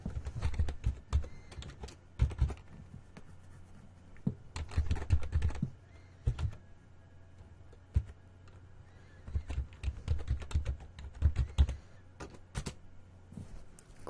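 Keys clatter on a computer keyboard in quick, irregular bursts with short pauses between them as a website address is typed in a quiet room, with no one speaking.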